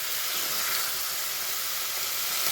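Water poured into a pan of frying tomatoes for aloo dum sends up a steady, bright steamy sizzle that holds evenly throughout.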